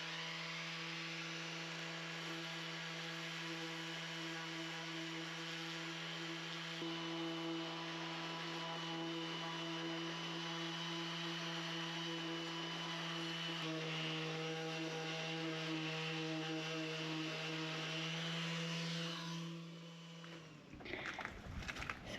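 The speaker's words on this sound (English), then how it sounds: "maybe the orbital sander as well with a higher grit sandpaper" An orbital sander fitted with higher-grit sandpaper working on stone: a steady, droning motor whine with a constant pitch that runs for about twenty seconds, then breaks into a short burst of rougher scraping noise.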